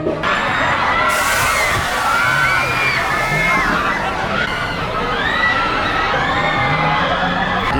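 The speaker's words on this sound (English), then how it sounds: "Do you hear the screams?" Crowd screaming and shrieking with joy on a pirate ship ride at a mall, rising and falling waves of high-pitched yells and whoops over busy background clamor, loud and continuous.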